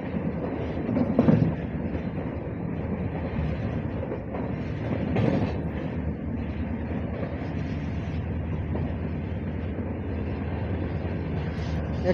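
A long-distance passenger train on the Dibrugarh to New Cooch Behar route runs through a large station without stopping, a steady loud rumble of wheels and carriages with faint rhythmic rail clatter throughout.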